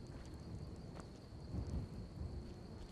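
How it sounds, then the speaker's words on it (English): Rain and thunder in Skyrim: a faint, steady hiss of rainfall with a low rolling rumble of distant thunder swelling briefly midway. "It's such a rainy day already."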